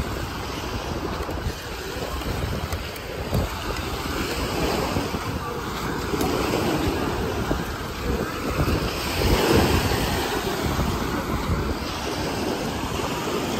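Ocean waves washing onto Miami Beach, a continuous rushing surf mixed with heavy wind buffeting the microphone, steady and loud with no talking.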